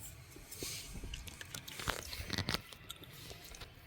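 Korean blood sausage dipped in chojang is chewed up close, with soft wet bites and a few brief crunchy squishes over a quiet background, faint and short.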